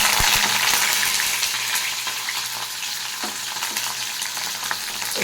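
Slices of bitter gourd fry in hot oil for dal, a steady close sizzle with crackling pops and occasional stirring scrapes, heard alone with no talk.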